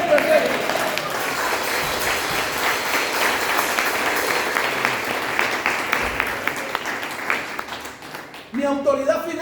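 A church congregation bursts into sustained, dense applause for several seconds with voices mixed in, then it fades as speech resumes near the end.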